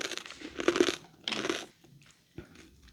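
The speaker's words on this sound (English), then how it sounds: "And a crunchy texture, which is nice because the other, like the squid's chewy." Someone bites into a crunchy, spicy rice cake from an Asian market, with two or three close, crisp crunches followed by quieter chewing.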